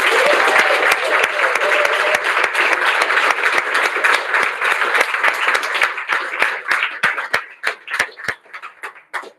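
Sustained audience applause at a graduation ceremony for Google Certified Innovators, a dense wash of many hands that thins out toward the end into scattered individual claps.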